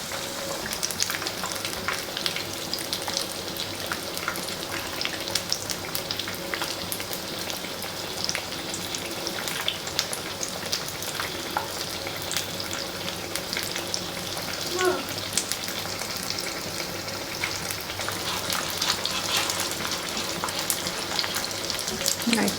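A chicken fillet cutlet fries in a pan with a dense, continuous crackling sizzle that stays close and fairly loud throughout, with occasional faint clinks of a utensil.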